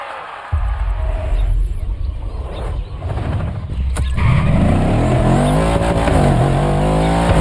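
Mercedes-AMG One engine in The Crew Motorfest, starting with a loud low roar and then climbing into a rising, high-pitched rev that stays close and dominant, with a faint whine sweeping upward above it.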